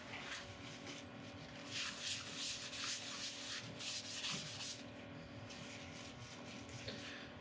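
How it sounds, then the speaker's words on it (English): Steady rubbing and polishing of a jarrah burl and resin woodturned bowl with ultrafine abrasive paste, a continuous close-up scrubbing sound with a slight swelling rhythm and a faint mechanical hum beneath it. "we're going to go on with an ultrafine abrasive paste."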